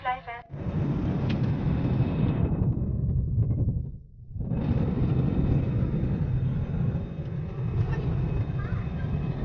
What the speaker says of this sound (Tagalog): Nag-safety demo na nga at maya-maya ay nag-take off na ang eroplano.